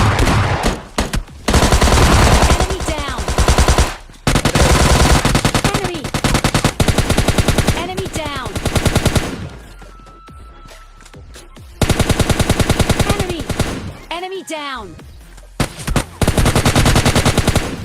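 Gunfire in the mobile battle royale game PUBG Mobile Lite: loud, rapid bursts of automatic fire and single shots that come in repeated clusters over the stretch, with short quieter gaps between exchanges.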